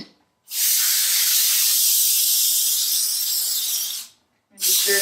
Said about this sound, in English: so now we're just going to spray the edges.